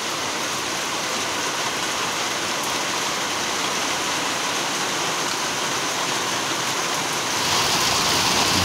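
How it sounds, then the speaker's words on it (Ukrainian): A heavy rain downpour after a long dry spell, a continuous dense hiss of rain pounding surfaces close by, steady throughout and swelling slightly louder near the end. "2 місяці не було дощу, на 3 дні отакі зливи."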